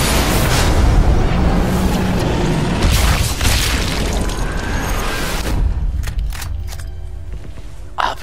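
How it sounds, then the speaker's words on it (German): A big booming explosion in the video game Sniper Elite V2, loud and rumbling with heavy low-end debris noise that rolls on for several seconds before thinning out into quieter clatter. "warten wir auf die nächste Explosion"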